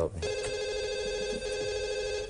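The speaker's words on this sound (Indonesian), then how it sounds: "belum dijawab tapi ada telepon lagi, kita dengar dulu ya" A telephone on a live television economics talk show rings for an incoming viewer call, a steady electronic ring tone heard on its own.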